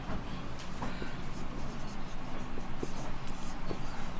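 Hand-written answer for a Class 10 polynomial maths exercise, pen scratching steadily on paper for several seconds, close and fairly quiet with faint room noise and no talk.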